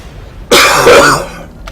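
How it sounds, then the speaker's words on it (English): A single loud, close cough with a throaty, rasping burst lasts about half a second and then fades to near silence. "Pardon my cough."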